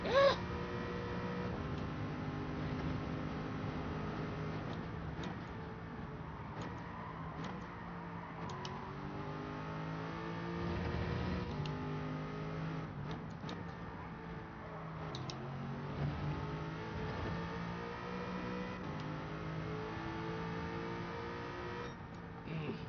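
A race car engine drones and sweeps up and down through gear changes on the Goodwood Motor Circuit in Gran Turismo 7, steady and continuous for the whole stretch with faint ticking over it.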